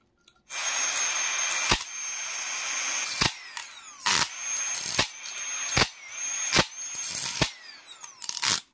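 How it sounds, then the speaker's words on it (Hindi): A 220V motor runs loud and steady at high RPM while pliers are pressed against its spinning shaft, producing a continuous whine broken by several sharp scraping bursts and brief dips as the grip bites, with no one speaking. "काफ़ी हाई आरपीएम के साथ में ये मोटर घूम रहा था"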